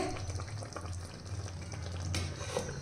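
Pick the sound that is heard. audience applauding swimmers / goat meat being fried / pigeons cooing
goat meat being fried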